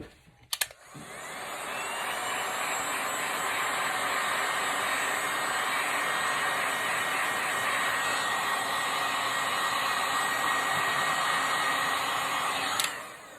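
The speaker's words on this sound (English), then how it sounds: "So I'm going to just grab the heat gun again. Give it a little zap." A heat gun drying paint on a craft sunflower painting blows a steady, loud whooshing roar close by for about twelve seconds, with clicks as it switches on and off.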